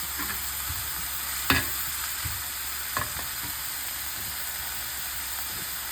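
Onions and curry leaves fry in a pan of hot oil for mutton sukka, giving a constant, even sizzle with a couple of brief louder spatters and no voices.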